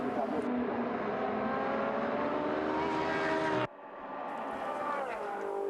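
Ferrari Challenge race cars at Monza in the 2016 opening round roar past, a loud sustained engine whine shifting in pitch, then an abrupt cut to a quieter, still-rising engine drone.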